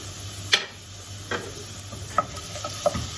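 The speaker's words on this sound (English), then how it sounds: "So I've been frying up the onions and garlic." Onions and garlic fry softly in a pan, with a low steady sizzle and a few sharp clicks of a utensil stirring at irregular intervals.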